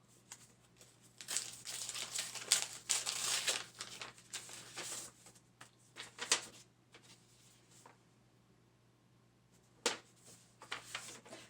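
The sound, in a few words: opening a wrapped book package, paper crinkling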